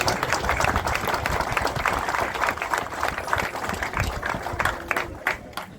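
At a passing out parade, a large audience gives loud, continuous applause, a thick wash of many hands clapping together that stays strong and then tapers toward the close.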